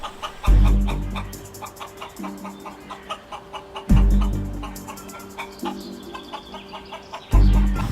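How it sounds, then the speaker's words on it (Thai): Two chickens cluck and strut close by in an outdoor spot where bottles and cans are being shot at for target practice, repeated bursts of clucking recurring every few seconds over a low rumbling background. "ไก่มาจากไหนเนี่ย"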